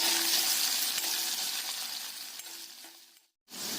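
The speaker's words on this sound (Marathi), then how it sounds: "बटाटा छान परतून घ्यायचा." Curry leaves, garlic and finely chopped potato sizzle and fry in a pan for Sabudana Khichdi, a steady hissing crackle that fades slightly, then cuts out briefly before resuming.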